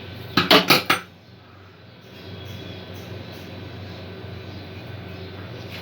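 Prawn pulao is scraped from a cooking pot into a serving dish: four quick metallic clinks of a spoon against the pot up front, then a steady low background hum with no further clatter.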